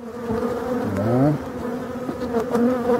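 Honeybees buzzing agitatedly at an opened hive during a frame inspection, a loud close swarm drone with individual bees swooping past in rising and falling whines.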